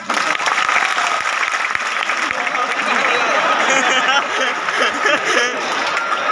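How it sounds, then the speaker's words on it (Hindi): Loud, sustained applause from a large audience at a lecture hall event, clapping for a boy's courage, continuous dense clapping with some crowd noise throughout. "इस लड़के की हिम्मत पे ताली बजाओ यार"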